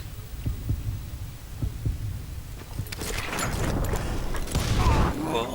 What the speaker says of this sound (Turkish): Kalp atışını duyduğun zaman sık.